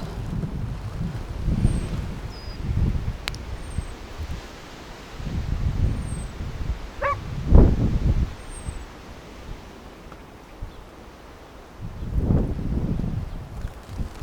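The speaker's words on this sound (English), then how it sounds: "Still windy." Gusts of wind buffet the microphone at an allotment in the wake of a storm, swelling in loud rumbling bursts and easing between them, with faint rustling behind.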